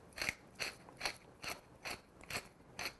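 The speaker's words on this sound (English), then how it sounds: "And that's 10 turns of my mill, and I know my mill gives me a quarter teaspoon when I do that." A hand-turned pepper mill grinds black pepper in a steady series of about seven gritty, ratcheting crunches, close and distinct with no talking.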